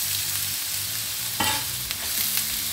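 Chopped onion sautéing in hot olive oil in a frying pan, a loud, steady close sizzle with brief stirring scrapes, no talking.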